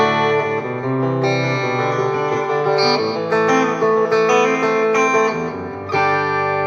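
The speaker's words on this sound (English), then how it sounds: "That is a Fender setting on my GP50. So Fender Twin." Electric guitar played through a Fender Twin amp model on a Boss GP50 effects unit, clean setting on the bridge pickup; a steady run of bright, ringing chords and notes with reverb, continuous and close, no talking.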